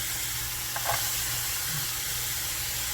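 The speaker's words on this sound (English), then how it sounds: "We are going to put our lean ground beef into our soup pan, along with our onion" Lean ground beef and onion sizzling steadily in a soup pan, a dense continuous frying hiss with a couple of brief stirring scrapes.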